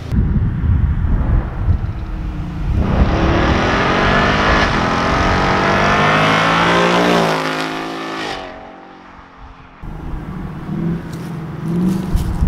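A Coyote-engined Ford Mustang with its muffler deleted revs hard and drives by, a loud, raw engine roar that climbs in pitch through sustained acceleration, then drops away briefly before revving again, with some wind buffeting on the microphone.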